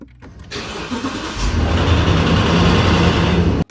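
A 2021 Toyota Land Cruiser with a 5.7-litre V8 starting from cold: a brief crank, then the engine catches and settles into a loud, fast idle with a rattle from the engine, cut off abruptly at the end.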